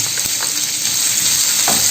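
Cinnamon and thin shreds of ginger sizzle in hot oil in a pan, a steady bright hiss with a few soft pops and a faint stirring scrape near the end.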